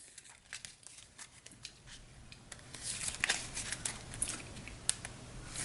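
Deck of Marvel Champions card game cards being shuffled by hand, a quiet, close riffling and crinkling of card stock that builds to denser, quicker flutters partway through, with no talking.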